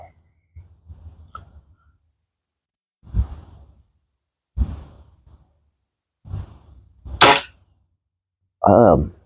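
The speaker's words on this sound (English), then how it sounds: "So the first two shots, we hit wood, huh?" HW50S air rifle pellets fired at a wooden target about 20 yards away: a series of short, sharp cracks and knocks, spaced a second or two apart, each standing out clearly against a quiet background.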